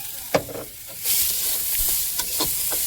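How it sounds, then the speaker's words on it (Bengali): Peas and carrots fry in a pan, giving a close hissing sizzle that swells partway through, with a few spatula knocks and no speech. "এখন আমি ভেজে নিচ্ছি মটরশুঁটি আর গাজর"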